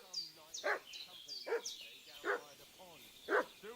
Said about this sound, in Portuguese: esse cachorro tá latindo